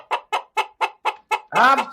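Chicken clucking up close: six rapid, evenly spaced clucks followed by a longer, louder squawking cackle, loud and clear with no talk.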